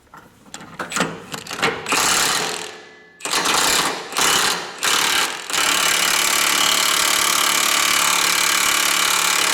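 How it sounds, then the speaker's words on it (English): Metal-on-metal banging and grinding on a Volvo VNL 780 truck's rear shock bolt as it is punched out, with bursts of impacts in the first half giving way to a steady, loud mechanical whir. "in order to get a punch on the end of that bolt and drive the bolt out."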